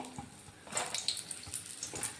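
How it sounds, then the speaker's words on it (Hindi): Eggplant pieces drop into hot oil and sizzle, a faint crackling hiss with scattered bright pops that swells after a moment, heard close but quietly. "अब यहाँ पे तेल गर्म हो गया है तो बैंगन को हम तेल में डाल लेते हैं।"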